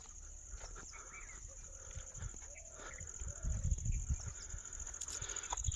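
Sheep at a small shed on farmland in Kanakapura give faint, distant bleats over a steady high-pitched background whine and low rumbling noise.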